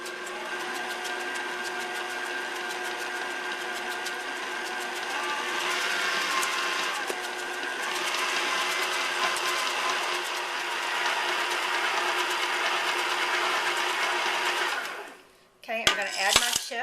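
An electric mixer beats red velvet chip cookie dough in a kitchen bowl, a steady loud whirring drone with faint rattling that runs almost unbroken, then cuts off near the end with a few brief clatters.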